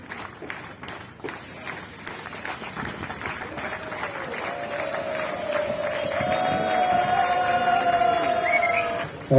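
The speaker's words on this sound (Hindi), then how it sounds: "तालियां बजती रहनी चाहिए।" An audience applauds at the 40th foundation day celebration of the All Nyishi Students Union: steady crowd clapping with some cheering that swells toward the end, with a sustained tone and voices running beneath it.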